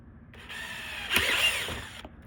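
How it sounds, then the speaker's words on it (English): A power drill with a 13mm bit whirs steadily for under two seconds, pitch shifting as it bites through a Jeep JL tailgate, then stops. "So we're using a 13mm or a 3/8 drill bit."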